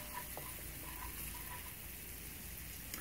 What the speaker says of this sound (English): You can hear the nice sizzle of the leeks.